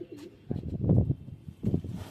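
A pigeon gives soft, low throaty coos in two short bursts, close by, on an overcast, rainy day in Amravati, Maharashtra.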